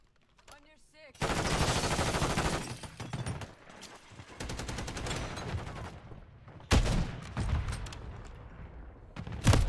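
A sentry gun in a video game hammers out long, loud bursts of rapid automatic fire, broken by short pauses, with a sharp heavy shot near the end.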